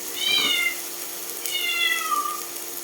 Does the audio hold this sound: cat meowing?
yes